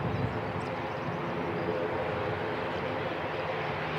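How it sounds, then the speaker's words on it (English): A Jetstream 32 turboprop on Origin flight 102 drones steadily at Christchurch Airport, a broad constant engine roar with no clear changes over a few seconds. "Nice looking Jetstream 32, operating Origin flight 102."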